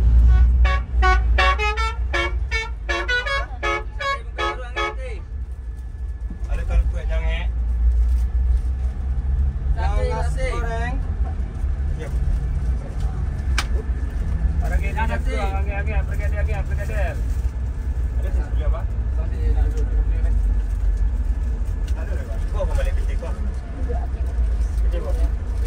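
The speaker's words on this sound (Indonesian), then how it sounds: "Ini belok kanan adalah Terminal Bareh Solok, pintu masuknya." Traffic rolls into Bareh Solok bus terminal in Indonesia, a steady loud engine and road rumble with horn toots, while someone talks over it throughout.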